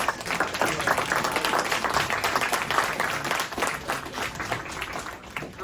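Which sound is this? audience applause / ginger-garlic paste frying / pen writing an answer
audience applause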